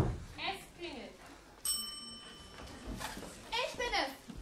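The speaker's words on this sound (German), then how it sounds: "Es klingelt." A doorbell in an audio drama rings once with a bright, sustained chime partway through, while voices talk before and after it.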